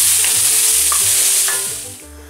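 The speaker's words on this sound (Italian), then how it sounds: "andiamo ad aggiungere adesso i peperoni. Anche questi lasciamoli cuocere 3-4 minuti." Bell peppers and spring onion sizzle loudly in a hot wok, a steady close crackle with a few stirring scrapes, no voices.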